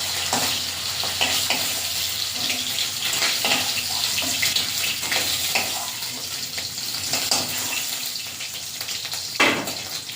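Hilsa fish frying in oil in a wok, giving a continuous crackling sizzle with scattered spatters and stirring, some running-water noise in the background, and no talk.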